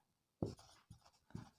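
A pen scratches across paper in three short bursts, close and quiet, with brief pauses between strokes and no talking.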